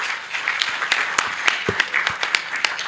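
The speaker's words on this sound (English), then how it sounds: "Join me to have another round of applause to our panelists." Audience applause for panelists at a conference session, dense and sustained with sharp individual claps standing out through a close, steady clatter.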